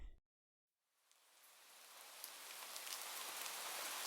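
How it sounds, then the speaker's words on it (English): Steady rain falls on a surface as a soft, even hiss that rises from silence and grows gradually louder, with occasional faint droplet ticks, in a Five Nights at Freddy's horror fan-game setting. "It rains from time to time randomly."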